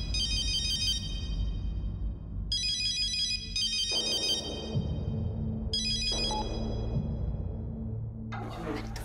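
A mobile phone ringtone plays loudly in repeated melodic bursts over a low background hum, continuing through the whole stretch.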